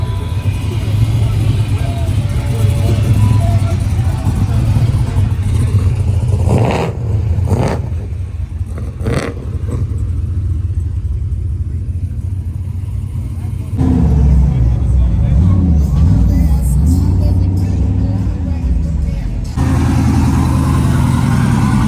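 A pickup truck with an LS V8 engine rumbles loudly close by, idling and revving in surges at a truck-and-coffee meet, with people talking nearby.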